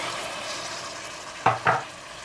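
Minced meat keema frying in a pan for keema mutter, a low background sizzle broken by two quick, louder scraping stirs near the end.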